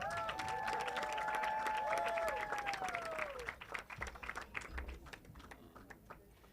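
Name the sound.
audience applause for a speaker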